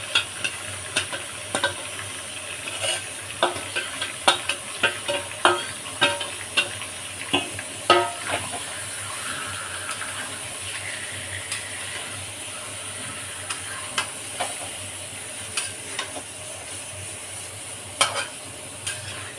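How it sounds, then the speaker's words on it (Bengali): Marinated chicken sautés in oil in a pan, a steady sizzle running throughout while a spatula scrapes and clacks in quick irregular bursts, busiest early on and thinning out toward the end. "ভালো করে কষাতে হবে মাংসটা"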